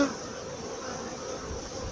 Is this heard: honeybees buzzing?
yes